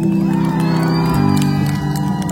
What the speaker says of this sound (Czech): Velký potlesk pro našeho, prosím vás, zvukaře Matěj Vik, tam v tom stanu!